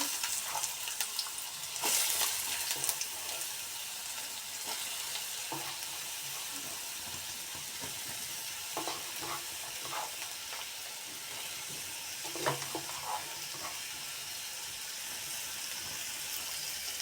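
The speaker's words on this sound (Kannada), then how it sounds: "ಇದನ್ನು ಚೆನ್ನಾಗಿ ಫ್ರೈ ಮಾಡಬೇಕು" Onion fries in oil in a pan for beetroot paddu, a soft continuous sizzle with scattered scraping stirs and light clinks, fairly quiet and close.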